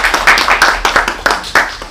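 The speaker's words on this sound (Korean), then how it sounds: "큰 박수 부탁드립니다." Audience at an education administration forum claps for the presenter and panelists: a brief burst of dense, fairly close hand claps with sharp individual slaps, no talk over it.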